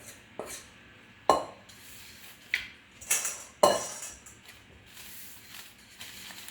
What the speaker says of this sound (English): I spread them out on my baking sheet.